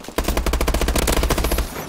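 Rapid automatic gunfire from a first-person shooter video game, a steady burst of about a dozen loud shots in quick rhythm over roughly a second and a half, with no talking.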